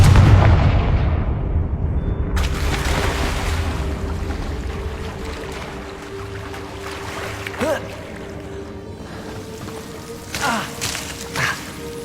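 A Confringo blasting spell goes off in Hogwarts Legacy, a loud booming burst at the start that rolls into a long rumbling wash, followed later by a few smaller crackling impacts.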